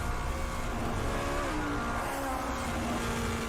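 Supercars head into the pit lane after the checkered flag at a car meet in North Wales, heard as a steady, fairly faint engine drone with a slowly shifting pitch, like cars running nearby.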